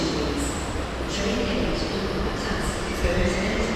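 An LRT commuter train arriving at a Bekasi station, a steady low rumble with faint high squeals and rattles, heard at moderate distance under station ambience.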